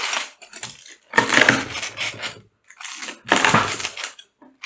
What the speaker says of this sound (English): Let's just cut this up, I guess, into chip sizes, I guess.